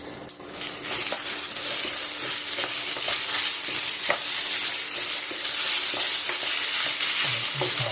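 Loud, steady sizzling of salted rice frying in a pot for Ghanaian angwamo, with occasional scraping and stirring sounds, close up and continuous.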